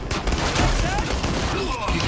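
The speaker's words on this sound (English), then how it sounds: "Keep shooting them, Dylan." Rapid gunfire from the Killing Floor video game fills the whole stretch, a dense, loud fusillade of overlapping shots with players' voices mixed in.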